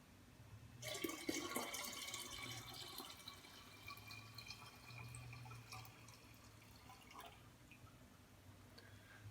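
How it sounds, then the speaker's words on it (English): Boiled tea is poured into cold water, a steady splashing, trickling stream that starts abruptly and continues fairly quietly for several seconds before thinning to drips. "To cool it down, we're just going to pour it in"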